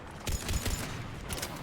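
Rapid bursts of weapon fire in the video game Mass Effect 3, a quick cluster of punchy shots followed by a couple more, with a steady noisy battle bed underneath.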